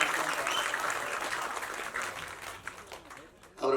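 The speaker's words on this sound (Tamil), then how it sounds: "அவருக்கு ஒரு கைத்தட்டி பாராட்டு தெரிவிச்சுக்கலாம்" A crowd at a film's song and trailer launch event breaks into sustained applause, a dense wash of clapping that gradually thins out toward the end.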